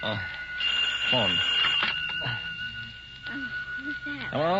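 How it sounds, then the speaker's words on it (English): A telephone rings in the middle of the night, its steady electronic tone running through the whole moment while voices speak over it. "Phone."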